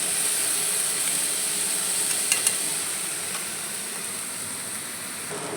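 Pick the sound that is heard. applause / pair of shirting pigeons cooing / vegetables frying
vegetables frying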